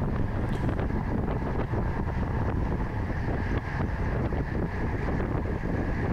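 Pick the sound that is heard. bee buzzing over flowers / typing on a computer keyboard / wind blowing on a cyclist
wind blowing on a cyclist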